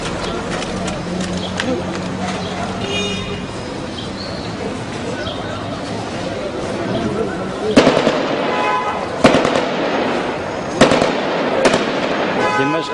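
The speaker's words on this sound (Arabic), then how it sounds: "اطلاق النار على المظاهرة وتفريقها بالرصاص الحي" Four sharp, loud cracks of live gunfire ring out in quick succession, a second or so apart, over a noisy crowd of voices shouting and talking at a street protest in Al-Tadamon, Damascus, Syria.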